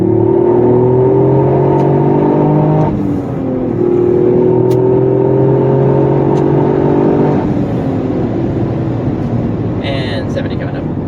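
A Toyota GR Yaris engine revs hard while accelerating on German roads, rising tones climbing through gears with two brief dips at the shifts, loud and close from inside the car.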